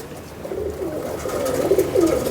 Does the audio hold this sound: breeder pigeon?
yes